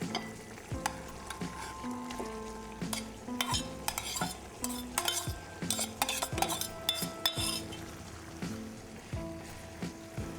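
Boiled basmati rice is stirred into capsicum in a pan for a capsicum biryani, with repeated metal spoon scrapes and clinks over a soft sizzle in an irregular rhythm.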